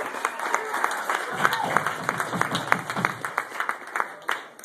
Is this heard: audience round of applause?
yes